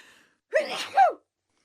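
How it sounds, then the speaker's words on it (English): A single sharp human sneeze, a quick inhaled gasp followed by a loud explosive burst, close and isolated against silence. "I'm going to sneeze."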